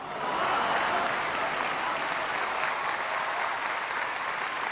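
An audience at a Hindi religious poetry recital gives a long, steady round of applause, a broad even wash of clapping, fairly loud and constant throughout with no voices over it.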